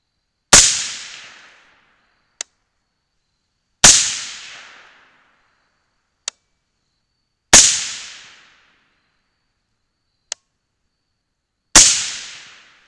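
Rifle firing 70-grain Hornady GMX 5.56 bullets loaded with CFE 223 powder, four loud sharp shots spaced a few seconds apart, each with a short decaying tail and a faint distant crack following it, no voices.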